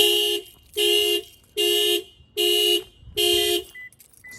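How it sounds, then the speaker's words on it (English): A 2021 Toyota RAV4 factory alarm, set off by its shock sensor after a tire is struck, blares five loud, evenly spaced horn-like pulses up close, with brief gaps between them. "Sets off the alarm."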